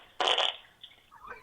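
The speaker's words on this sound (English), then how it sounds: "I usually have an arsenal of anal explosions" A single human fart blasts out as a loud, short burst of about a third of a second, followed by faint small sounds in quiet.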